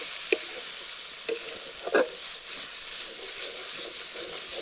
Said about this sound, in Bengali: এবং মশলাটিকে ভালো করে কষিয়ে নেব।